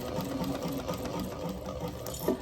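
A sewing machine stitches down the flaps of a bulky laptop bag, its motor running in a steady, fairly close mechanical whir with rapid needle chatter throughout the short stretch and no talking.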